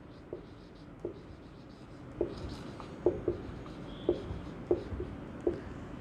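Chalk or marker writing on a board during a physics lesson on light, a series of short faint scratchy strokes spaced about a second apart in a quiet room.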